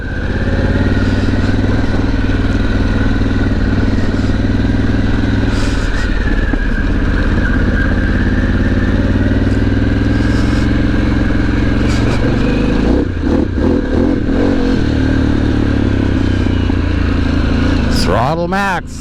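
A Harley-Davidson Pan America Special motorcycle cruises on the highway with a steady, loud engine drone and rushing wind from start to finish, briefly swelling and changing pitch near the end.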